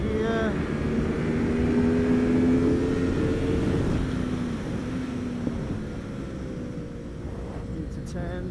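Motorcycle on Bridgestone S20 tyres pulling hard uphill, its engine revving strongly and steadily close by, with a person talking over it throughout.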